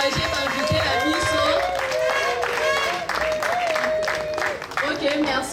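An audience at an anniversary ceremony applauds to encourage guests, dense clapping mixed with crowd noise and music, with voices talking over it throughout.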